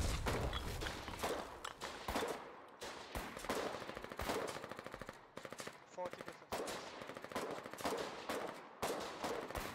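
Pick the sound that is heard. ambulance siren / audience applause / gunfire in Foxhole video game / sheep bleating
gunfire in Foxhole video game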